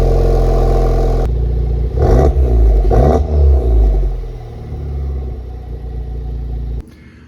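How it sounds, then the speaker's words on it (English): A Honda Civic Type R FK8 fitted with a Remark twin loop exhaust fires up, going from a low idle into a loud rumble with two sharp blips of revving, then settling to a steady idle before cutting off. "start it up for the first time"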